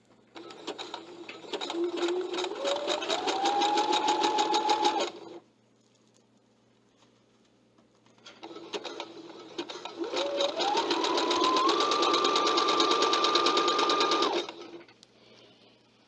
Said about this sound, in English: I'm stitching along this edge.